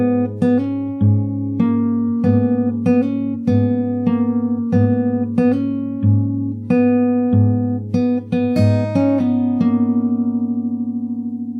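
Fingerstyle acoustic guitar plays part of a song, steady plucked notes over a repeating low bass with a small closing fill, intimate and clear, ending on a long ringing chord.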